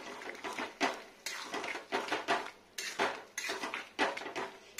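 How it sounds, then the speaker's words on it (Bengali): A metal spoon clatters against a kadai while ridge gourd and potato in poppy seed paste is stirred, producing rhythmic scraping and knocking strokes repeated every second or so, close and clear with no talk. "আজকে বেশি খটর খটর শব্দ করছে কেন?"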